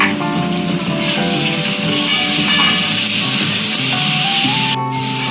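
Ginger garlic paste frying in hot oil for a Bengali mutton curry, a steady loud sizzle and hiss that runs without a break, close up, with a brief clatter near the end.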